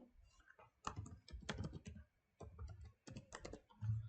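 A password is typed on a computer keyboard as quick clusters of soft, close key clicks in short bursts separated by brief pauses.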